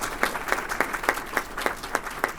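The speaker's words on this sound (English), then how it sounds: "let's give a round of applause for our amazing panelists" A small audience at a panel discussion on somatic sexuality applauds the panelists, with sparse, evenly spaced claps forming a light, steady rhythm.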